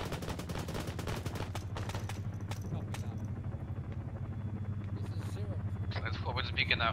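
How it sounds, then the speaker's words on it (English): A Chinook helicopter in the military simulation game Arma 3 during a night operation drones with a low, steady rotor thump, joined by bursts of gunfire and distant clatter for about seven seconds. "I'm hearing the sound of helicopter,"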